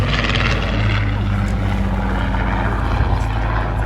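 A WWII photographic reconnaissance aircraft, PSX-53, flies over the Southport Airshow, its loud droning propeller engine roaring steadily and close, with a low rumbling growl underneath and no talk heard.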